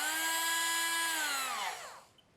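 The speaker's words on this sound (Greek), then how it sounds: "Είναι ένα Dremel, ένας λιαντήρας ουσιαστικά," A Dremel variable-speed rotary tool whines steadily at high speed, loud and close, then spins down and cuts off near the end, leaving quiet.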